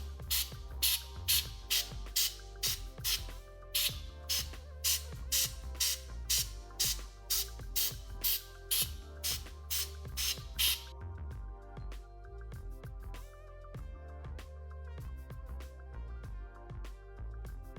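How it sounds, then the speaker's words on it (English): Compressed air sprays in short, rhythmic bursts while cleaning a MacBook fan, a loud repeated hiss over background music, with steady music alone toward the end. "And from here I'm gonna start spraying."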